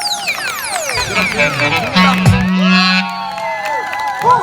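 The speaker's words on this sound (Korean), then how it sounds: "박수 소리가 너무 작아." A crowd at a singer's stage show cheers and whoops, with children shouting and some clapping, loud and lively alongside bright tonal sounds and a voice over the noise.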